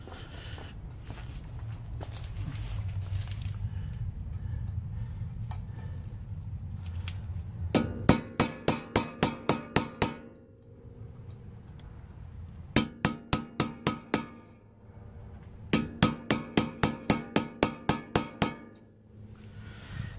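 A big hammer striking the axle nut on a 1995 Honda Civic 1.6L during axle removal, heard as three bursts of rapid, sharp metallic blows separated by short pauses.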